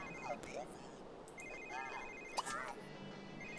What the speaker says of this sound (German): Dein Telefon klingelt.